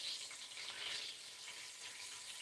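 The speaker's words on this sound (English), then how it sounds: "I can hear the sound of the chicken frying" Chicken frying in hot oil for a Sunday dinner, a soft steady sizzle and crackle, close and even, with no voices.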